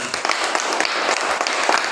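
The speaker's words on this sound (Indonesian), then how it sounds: "Ya, tepuk tangan." A classroom group claps together in a short, dense burst of applause that stays even and fairly close for its whole length.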